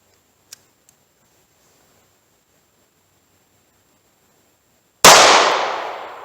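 A single sharp gunshot from a .38 Special snub-nose revolver fired through a chronograph: loud, close crack with a fading tail, preceded by faint ticks and near silence.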